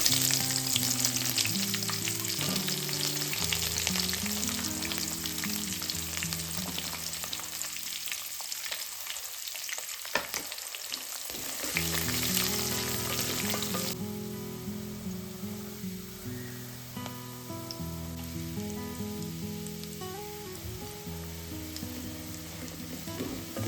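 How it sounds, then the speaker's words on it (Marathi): Onion sizzles and crackles in hot oil with cashews, green chillies and black cardamom for a pea pulao, a continuous close frying sound with occasional stirring scrapes that quietens partway through. "हे सगळं तळून झाल्यानंतर त्याच्यामध्ये आपण कांदा टाकूया."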